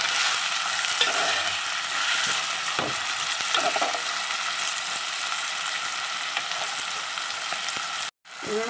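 Chopped tomatoes for an egg curry sizzle and soften in a hot pan, a steady hiss with occasional stirring scrapes, close up and alone before a short break near the end.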